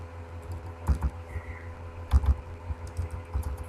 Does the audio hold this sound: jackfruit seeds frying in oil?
no